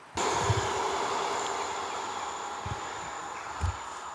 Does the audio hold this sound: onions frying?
no